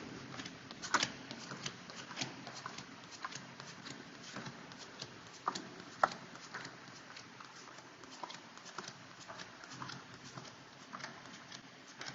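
Quiet, repeated papery riffling and soft flicks of cards being shuffled, irregular bursts with small taps, close and faint, no voices.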